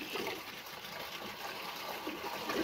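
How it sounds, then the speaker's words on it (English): Short test flush of a Kohler Aquapiston toilet: a steady, fairly loud rush of draining water runs the whole time, with no pause or clear end. "There it goes. Here's flush."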